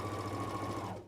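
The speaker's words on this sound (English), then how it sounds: "So I'm going to sew a little bit more" A sewing machine stitches a rolled hem in a brief steady whirring run of rapid needle strokes, close but fairly quiet, stopping at the end.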